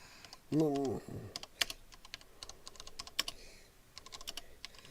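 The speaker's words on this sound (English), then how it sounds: "Sorry about my typing." Soft, irregular tapping of a computer keyboard being typed on, close by, with a short vocal sound early on and sparse bursts of keystrokes.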